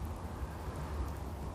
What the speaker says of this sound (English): It's night time and it's pissing with rain.